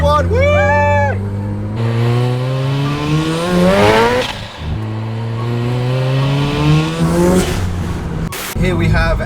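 A highly modified Mazda RX7 accelerates hard in a central London street race. Its engine note climbs loudly and close through repeated rising sweeps, with voices briefly audible over the roar.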